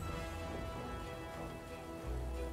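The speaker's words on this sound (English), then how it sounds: "Rain." Steady rain falls in Divinity: Original Sin 2, a dense, continuous hiss of drops with a low rumbling bed underneath, constant and fairly close for the whole stretch.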